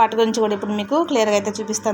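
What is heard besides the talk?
No everyday noises stand out.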